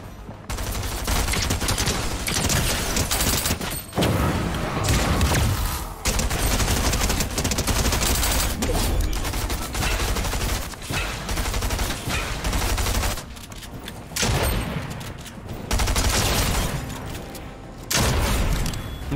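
Fortnite gunfire: near-constant loud bursts of automatic and rapid shots that pile into dense volleys, with only brief gaps.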